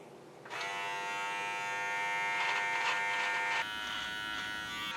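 An electric beard trimmer buzzes steadily and close up as it lines out a beard along the cheek and sideburns, starting abruptly after a brief quiet moment and holding a continuous motor whine with a slight dip near the end.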